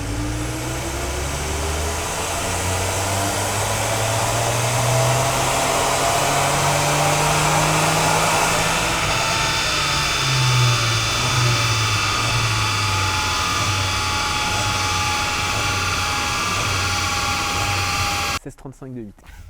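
VW Up GTI with a stage 3 turbo engine on a dyno pull, a loud sustained engine roar and whine climbing in pitch, easing and climbing again, ending abruptly near the close.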